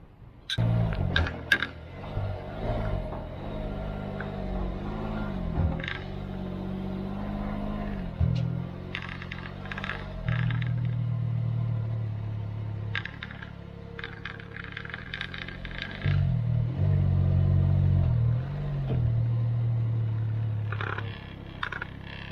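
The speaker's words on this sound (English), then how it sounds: "we'll go ahead and do a test run and take the Ryker up onto the trailer itself" A Can-Am Ryker three-wheel motorcycle rides up onto an Aluma trailer fitted with Extreme Max wheel chocks, its engine note rising and falling through throttle changes, with metallic clanks and knocks from the trailer deck and chocks.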